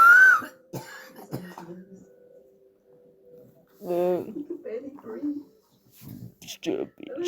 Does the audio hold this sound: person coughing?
yes